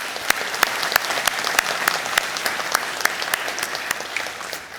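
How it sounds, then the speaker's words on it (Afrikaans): An audience claps for the juniors at a farewell gathering, a dense, loud, steady applause with many sharp individual claps standing out throughout. "Kom ons gee vir hulle 'n hande klap."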